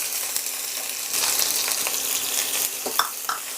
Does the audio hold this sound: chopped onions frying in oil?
yes